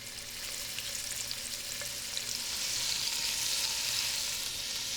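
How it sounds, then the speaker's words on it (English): Salt-and-pepper seasoned meat browning in a single layer in a hot pan, giving a steady, close, crackling sizzle that grows slightly louder toward the end with no talking. "Just salt, pepper, and then I'm going to brown them in the pan"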